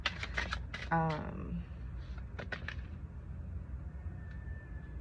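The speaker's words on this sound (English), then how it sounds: "I'm gonna give it one more good shuffle and see any last messages want to come out." Tarot cards being shuffled by hand, a quick burst of riffling flutters and slaps near the mic, with a voice speaking around them.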